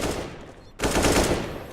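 AK-47 rifle fire punching through a door during a competitive esports video game match: loud, dense bursts of automatic gunfire, a brief lull, then sustained rapid shots.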